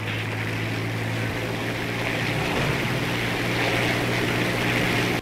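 A propeller plane engine in the War Thunder video game drones loud and steady with a constant low hum and broad roar, cutting off abruptly at the end.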